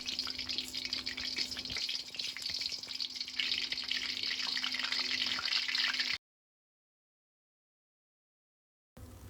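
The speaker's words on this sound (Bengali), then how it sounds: "তেলের মধ্যে দিয়ে দিলাম 4-5টা শুকনা মরিচ। শুকনা মরিচটা একটু ভেজে নেব।" Four or five dried red chillies fry in oil in a wok, giving a dense, hissing sizzle over a low hum. It stops abruptly into silence, then briefly returns.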